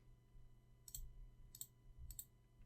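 Three faint, crisp computer mouse clicks spaced about half a second apart over a low background hum, during work on a map of bullaun stones.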